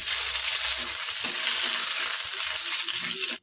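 Bay leaf, mustard seeds and panch phoron crackle in hot oil for a chutney. A loud, continuous sizzle holds steady throughout and cuts off abruptly at the end.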